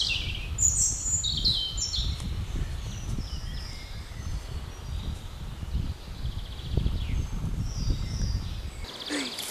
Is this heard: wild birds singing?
yes